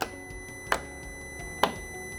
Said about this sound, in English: you see that it will beep once it's closed